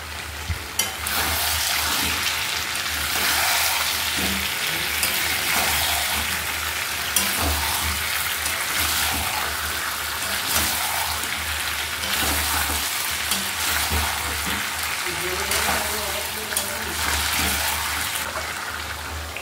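Large-cut potato chunks fry in a pan, giving a steady, close hiss and sizzle with occasional stirring clicks, and no talk.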